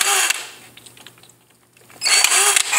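A power drill whirs loudly, stops for a moment amid faint clicks and handling noise, then spins up again at full speed.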